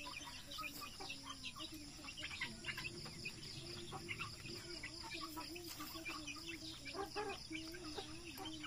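Darag native chickens on a livestock farm, soft clucking and scattered chirps at moderate distance over a constant high insect buzz, fairly quiet with no talk.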